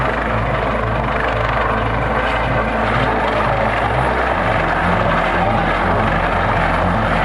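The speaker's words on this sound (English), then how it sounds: "Coast Guard helicopter rescue in the middle of the ocean from Carnival Sensation ship" A Coast Guard rescue helicopter's rotor thumps steadily and loudly over the ocean, close by and continuous, with the engine's broad roar filling the background throughout.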